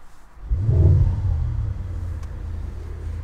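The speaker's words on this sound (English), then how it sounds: "For example, if I start the car now," A 2021 Mercedes-AMG GLS 63 SUV's engine cranks and fires with a sudden deep roar and brief rev flare, then settles into a lower, steady rumbling idle, heard close.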